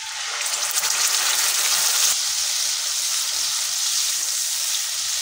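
Tomato, ginger and green chili paste hitting a hot pan with whole garam masala, a bright, steady, close sizzle that flares as the paste goes in and keeps frying evenly.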